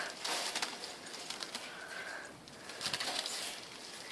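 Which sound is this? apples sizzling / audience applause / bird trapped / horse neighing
bird trapped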